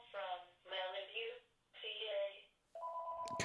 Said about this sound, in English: At the end of the podcast for this goddamn phone to ring because I never turn it off.